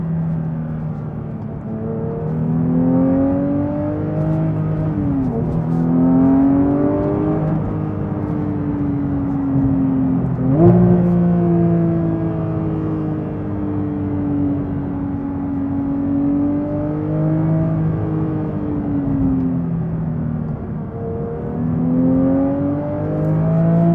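A Porsche sports car drives hard along country lanes, its engine note rising and falling steadily through gear changes as it accelerates, a loud continuous cabin roar with no one talking.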